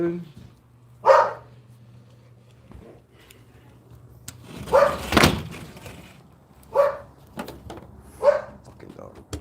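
An indoor dog lets out several separate barks spread across the stretch, with a louder clatter like a door or drawer midway and a steady low hum underneath.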